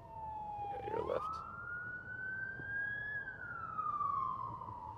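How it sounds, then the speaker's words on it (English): An emergency vehicle rolling out with lights and sirens on a Los Angeles street wails in a rising and falling sweep, loud and steady throughout over low traffic rumble. "got lights and sirens. He's rolling out"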